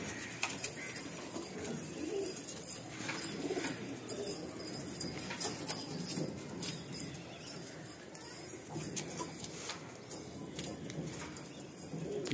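Madrasi pigeons, a matched male and female pair in a Kolkata loft, coo softly and repeatedly amid a busy background of rustling and clatter, with faint voices in the room.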